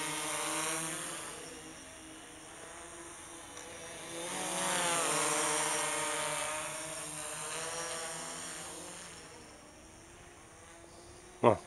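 A Syma-Matek F405SE quadcopter drone flying, a continuous high whine of spinning propellers that swells and fades as it drifts nearer and farther, ending with a sharp bump.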